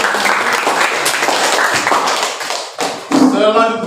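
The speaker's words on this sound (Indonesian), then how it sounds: "kita tepuk tangan untuk kelompok" A classroom group in Indonesia claps for a student team after a presentation, a dense burst of hand claps throughout that breaks briefly before more clapping and voices at the end.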